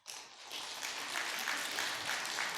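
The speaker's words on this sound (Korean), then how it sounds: "여러분들에게 힘찬 격려의 박수를 보내드리고 싶습니다" A church congregation at a year-end Sunday service breaks into applause, a steady, evenly sustained wash of many hands clapping, heard at a distance and fairly quietly.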